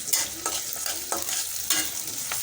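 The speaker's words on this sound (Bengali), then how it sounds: "এটাকে আমি ভালো করে ভেজে নেব।" Onions frying in oil in a kadai with fenugreek, garam masala, cloves, cardamom, cinnamon and bay leaf, giving a steady close sizzle with a few sharp stirring scrapes.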